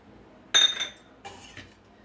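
A spoon clinks and scrapes against a bowl while mutton pickle is mixed with lemon juice, one sharp metallic strike followed by two softer scraping knocks, close and with no voices.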